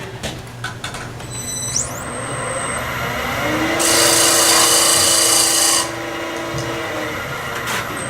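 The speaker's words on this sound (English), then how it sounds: "Sanding stick." Close, steady rasping of a sanding stick rubbed across wood, with a louder sustained stretch of sanding in the middle and lighter scraping around it.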